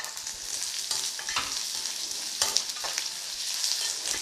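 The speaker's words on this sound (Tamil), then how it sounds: "இப்போ இந்த முந்திரி இந்த தாளிப்பில் போட்டேன்" Cashews frying in hot tempering oil for mango rice, a loud close crackling sizzle with bursts of spatter and stirring scrapes, no talk.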